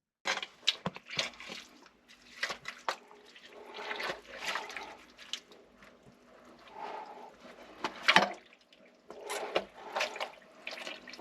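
Water sloshes and gurgles in a blocked manhole while a pry bar clears the blockage, with irregular bursts of splashing and trickling between quieter pauses.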